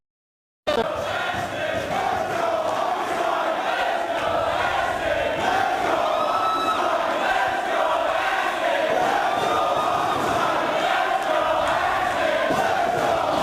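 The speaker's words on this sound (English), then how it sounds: "This crowd loving every second of it." Roaring, sustained crowd noise from an ROH professional wrestling audience during a Fight Without Honor match, a dense steady wall of cheering and shouting that fills the whole stretch after a brief silent start.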